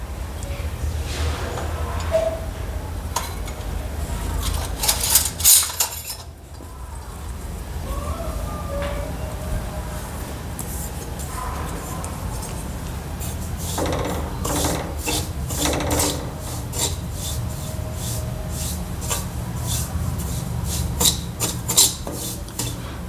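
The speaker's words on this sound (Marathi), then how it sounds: "आता त्याला लो फ्लेमवर आपण भाजून घेणार आहे" Semolina (rava) dry-roasted in a pan over a low flame, stirred with a utensil that makes steady raspy scraping and rubbing against the pan, continuing throughout with a few louder clatters.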